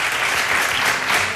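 Studio audience on a Spanish television show bursts into dense, steady clapping, a continuous wash of many hands heard close and loud with no voices over it.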